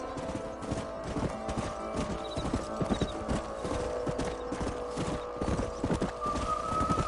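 Horses in the game Red Dead Redemption trot in a steady clip-clop of hooves, with a few whinnies rising over the continuous hoofbeats.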